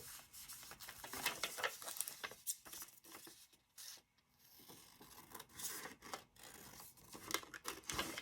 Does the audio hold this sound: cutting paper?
yes